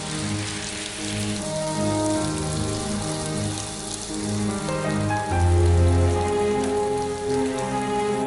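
Heavy rain falls steadily, pattering on surfaces in a dense, continuous wash, with faint music-like tones underneath.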